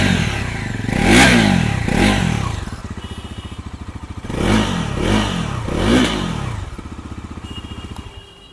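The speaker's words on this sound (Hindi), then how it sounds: "आप लोगों को एग्जॉस्ट नोट चेकआउट करवाता हूँ। NS400Z पे आप लोगों को पता ही है अंडर बेली एग्जॉस्ट मिलता है" A Bajaj Pulsar NS400Z with an underbelly exhaust revs in several sharp throttle blips, each rising and falling, between stretches of a pulsing idle, recorded close.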